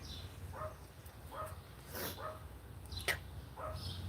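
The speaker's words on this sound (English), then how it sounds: "Stop barking in there." A small dog barks and yips in short bursts, several times at an uneven pace, heard faintly at a distance.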